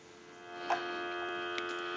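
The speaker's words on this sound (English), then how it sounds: "So we'll go ahead and give you some dial tone." Steady telephone dial tone on a landline being tested during a phone repair, a continuous even hum holding at constant level for about two seconds, with a couple of faint clicks over it.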